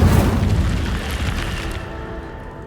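Incendio fire spell cast in Hogwarts Legacy, a loud booming whoosh of flame that rolls and fades over a couple of seconds, heard alone.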